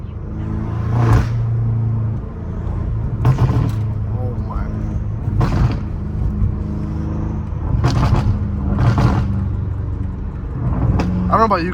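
Loud BMW M5 Competition with a catless exhaust rumbling at idle, with several sharp bursts of crackles and pops spread through, close by, with voices talking underneath.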